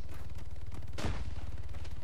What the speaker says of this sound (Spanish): Escucho tiros, pero no sé si me está tirando a mí.